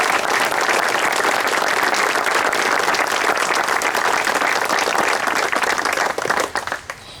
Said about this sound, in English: I'd like to give us all a round of applause for being here on this very important occasion